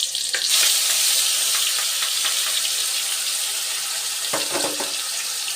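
Ground spice paste frying in a pan for a potato and pea dish, a loud, dense, close sizzle that holds steady, with a few stirring scrapes near the end.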